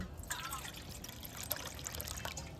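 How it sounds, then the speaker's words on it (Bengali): Water poured from a bowl into sugar in a pan to make a cardamom sugar syrup, a soft, close trickle and splash running steadily with faint clinks. "দেড় বাটি জল দিয়ে দেব"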